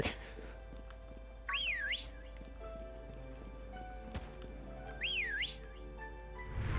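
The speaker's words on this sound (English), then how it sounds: "Oh, I just needed a whistle." Two rising-and-falling melodic whistles from Pokémon Shield, a few seconds apart, over quiet game background ambience with faint clopping.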